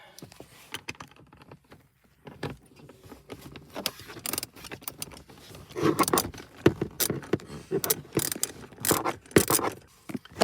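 10 mm bolts come out of a 2018 RAV4 dash speaker mount with a ratchet, giving close, irregular clicks, taps and metallic rattles that grow busier toward the end.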